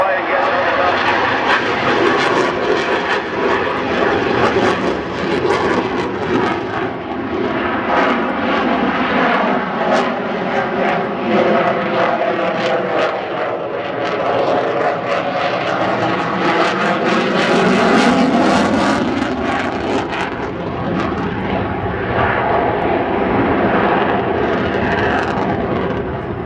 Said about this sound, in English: the simulated touch and go. It's actually going to be a low approach.